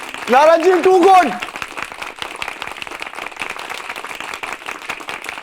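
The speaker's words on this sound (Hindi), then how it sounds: "तालियां" Enthusiastic applause from an audience in a comedic TV fantasy show scene, a dense burst of rapid hand claps that follows a brief spoken line and keeps going steadily to the end.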